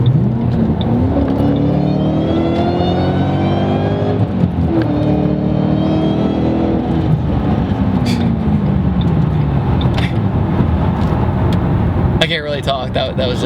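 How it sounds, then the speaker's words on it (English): A supercharged 2007 Shelby GT500 accelerates hard, its engine note and supercharger whine climbing through gears in loud rising sweeps, heard from inside the car, with a brief voice at the end. "sometimes you have to give love to the classic supercharger whine that the Terminator Cobras and the Shelbys do"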